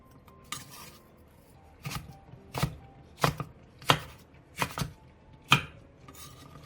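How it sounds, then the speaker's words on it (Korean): Knife chopping onions, apple and red chili peppers into large chunks on a cutting board, a series of about seven distinct, fairly loud chops spaced irregularly, with no talking. "작은 사이즈의 양파 2개와 작은 사이즈의 사과 1개 반, 큰 사이즈의 홍고추 3개를 갈기 좋은 크기로 큼직하게 잘라주세요."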